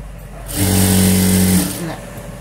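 Sewing machine running a straight stitch along blouse fabric, a steady motor whir lasting about a second amid quiet room noise, close and fairly loud.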